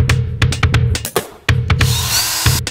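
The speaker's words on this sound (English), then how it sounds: "Drill some small holes," A power drill boring small holes through plastic whirs in short bursts, stopping and starting several times, with a longer hissing grind toward the end.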